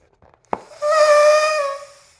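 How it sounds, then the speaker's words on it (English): A whoopee cushion lets out a single loud, buzzy fart sound lasting about a second, close up, preceded by a sharp squeeze or tap and faint handling noises. "It's just the whoopee cushion making a sound like this."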